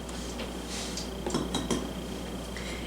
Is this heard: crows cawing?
no